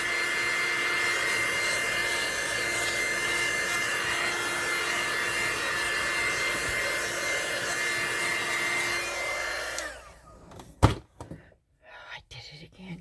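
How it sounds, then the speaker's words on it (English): A heat gun roars at a constant pitch while drying resin on a Dollar Tree frame, then cuts off near the end, followed by a few knocks and handling bumps. "with the heat gun, you can dry it pretty fast"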